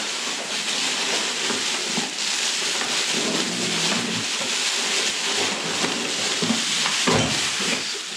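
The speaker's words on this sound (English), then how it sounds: "Lots of bubble wrap with peanuts." Hands rummage through bubble wrap and packing peanuts while unboxing Porsche parts, a steady loud rustling and crinkling with scattered crackles that runs continuously and alone.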